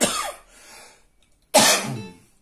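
Two harsh, loud coughs from a person sit close to the microphone, separated by about a second of quiet.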